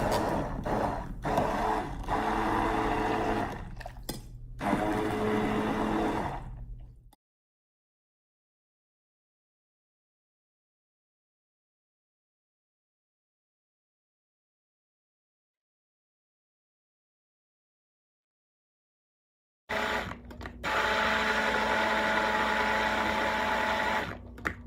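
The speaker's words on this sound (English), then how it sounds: "I'm going to take this blender and I'm just going to" Handheld immersion blender whirring through boiled carrots in hot water for soap making, a steady motor drone with brief pitch dips, then a long silence before the motor runs again near the end.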